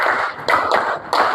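Schoolchildren in a classroom doing a rhythmic clap pattern, three loud, close group claps in a sequence with short gaps, crisp and bright.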